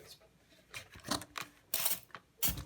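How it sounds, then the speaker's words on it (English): A spray bottle of 3% hydrogen peroxide spritzes onto a Game Boy Advance cartridge with a handful of short, sharp hissing pumps, close and fairly quiet, mixed with light handling clicks. "just going to spray that on there"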